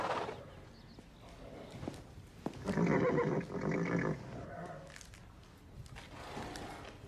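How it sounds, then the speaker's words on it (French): A horse whinnies in a loud, shaky burst midway, with rustling and faint background noise before and after. "Comanche, tu es le cheval le plus intelligent de toute la Terre."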